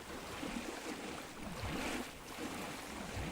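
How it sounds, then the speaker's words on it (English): Steady wash of water in a liminal pool video game, a continuous broadband surf-like rush with low rolling swells, moderately loud and unbroken throughout. "Water sounds really good though."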